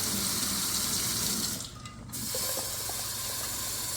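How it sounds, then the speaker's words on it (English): Cold water runs steadily from a tap into a container as it fills, a constant loud hiss with a brief dip partway through, with no talk. "fill it up again with the coldest water available"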